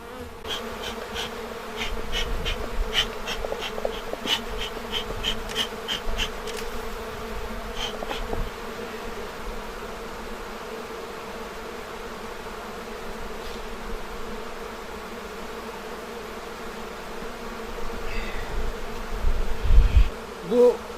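Honey bees buzzing around a hive in the mountains, a dense continuous drone of many insects close by, with passing individual bees swelling louder near the end and no talking.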